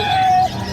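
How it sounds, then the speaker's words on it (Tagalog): A rooster gives a short, loud crow close by among a flock of chickens kept as livestock, standing out over outdoor background noise. "Ito, mga manok."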